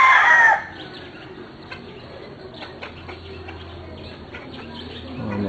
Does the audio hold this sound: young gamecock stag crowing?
yes